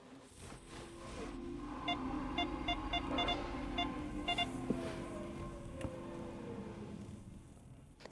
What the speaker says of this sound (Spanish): aquí en el estacionamiento subterráneo se escucharán aún mejor todos esos sonidos eléctricos adicionales y extra